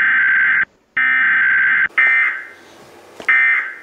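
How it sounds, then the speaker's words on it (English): Michigan's Emergency Alert System alarm tone sounds as loud, steady electronic tone bursts broken by short gaps, followed by a softer stretch and another burst near the end. "This next alarm is from Michigan."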